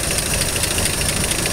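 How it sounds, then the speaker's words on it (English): A 1949 Chevrolet 216 six-cylinder engine with a single-barrel carburetor idling, a steady rough mechanical rumble with light ticking knock, fairly loud and close, no voices. "that little 216 engine is actually running as we walk towards it"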